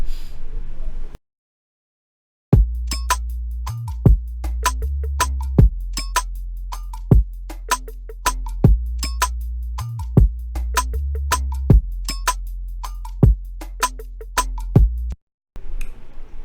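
A fast, punchy drum and bass mix plays loudly in Pro Tools, with sharp snappy hits over a deep sustained bass, after a brief pause near the start.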